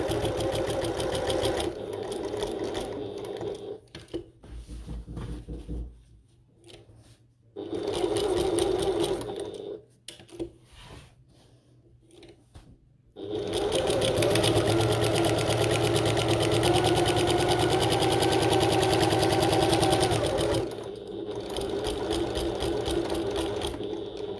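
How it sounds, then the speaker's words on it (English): A sewing machine stitches around all four sides of a bucket tote box, running in close, loud bursts separated by short pauses, then one long continuous run of stitching before stopping briefly and starting again. "So we're sewing through around all 4 sides of this box now."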